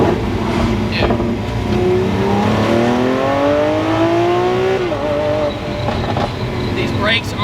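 A Lamborghini Aventador SVJ Xago's 6.5-liter V12 revs hard from inside the cabin, its pitch climbing steadily through a long pull before a gear change, loud and continuous with a voice speaking over it.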